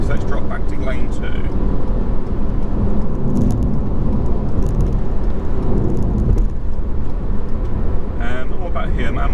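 A car cruises on a motorway at about 70 mph under cruise control, filling the cabin with a loud steady rumble of road and wind noise while a driver talks over it.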